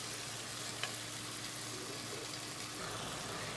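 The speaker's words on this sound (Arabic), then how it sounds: "وهنزل عليها بقى بالثوم دي كده، دول انا فرمتهم، وهنديهم برضو تشويحه كده مع بعض." Minced garlic sautéing with chicken in a pan, a steady soft sizzle with faint scraping of stirring underneath, continuous and fairly quiet.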